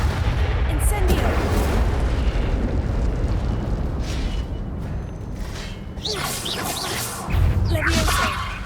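Incendio fire spells blasting in Hogwarts Legacy, loud rumbling booms and crackling roars in a dense continuous barrage of combat noise, with a voice calling out over it.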